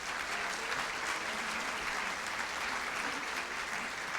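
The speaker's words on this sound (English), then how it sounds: "If we could please give Dream Teachers a round of applause." At an education gala, an audience gives a dense, even round of applause for Dream Teachers, continuous and unbroken throughout, heard from within the room.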